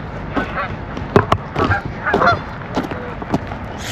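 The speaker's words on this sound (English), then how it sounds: "They're big white geese." A flock of big white geese honking in overlapping, irregular bursts, fairly close and lively, with background noise between calls.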